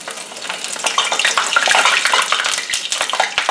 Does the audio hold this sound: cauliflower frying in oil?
yes